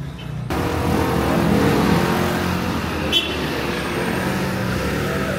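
A motorcycle passing on a Medellin street in the Comuna 3 neighbourhood, a loud, close engine rumble that rises and holds steady over constant street noise, with no talking.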